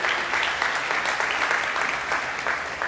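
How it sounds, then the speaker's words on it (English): Brief burst of audience applause at a developer conference talk, a dense crowd clapping loudly and steadily for a few seconds. "Round of applause for images?"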